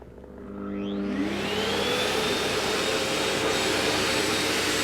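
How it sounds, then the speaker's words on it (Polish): A wet-dry vacuum cleaner vacuums and washes a floor at the same time. Its motor whirs up from a lower start into a loud, steady whine that holds for several seconds, with no talking. "moja ulubiona funkcja to jest jednoczesne odkurzanie z myciem podłogi."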